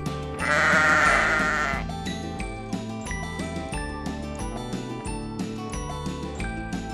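A sheep gives one loud, close, wavering bleat lasting about two seconds, followed by light jingling and a bouncy musical backing with no talk.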